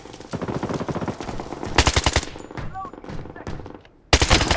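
Rapid automatic gunfire from the Blood Strike mobile shooter game, loud and close, in sustained bursts with a brief pause before another burst, with a game voice callout mixed in.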